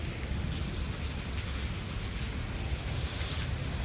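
Steady rain pouring down, a dense, even hiss of falling water with a heavy low rumble, continuous and fairly loud with no voices.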